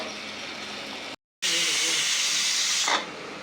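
A pressure cooker cooking mutton chukka lets a loud, steady hiss of steam jet out, breaks off briefly, then resumes strongly before tapering off, close by.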